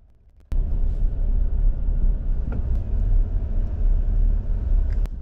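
Interior road noise of a car driving with a phone mount (Steelie Orbiter Plus holding an iPhone 15 Pro Max) on the dash; a steady, loud low rumble starts abruptly after a brief quiet moment and continues with a few faint clicks.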